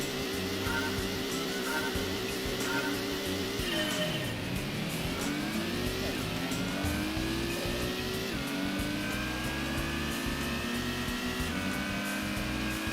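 A Mazda Miata engine in the Gran Turismo racing game revs and drops through gear changes, with a sharp pitch dip and then a climbing whine, loud and steady with no talking.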